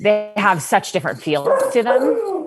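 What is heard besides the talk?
dogs barking in the background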